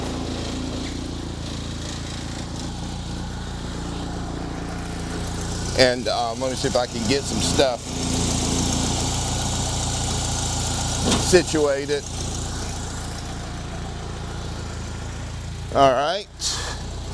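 An Alfa Romeo 2.0L Twin Cam engine idles on an engine stand with a steady, even drone and stand vibration, while someone talks briefly over it and some handling noises come through.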